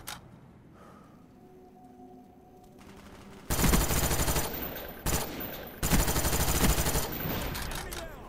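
Guns fire in Call of Duty Black Ops on PS3, with two loud bursts of rapid automatic shots after a quieter stretch of game ambience, the second burst following a short pause.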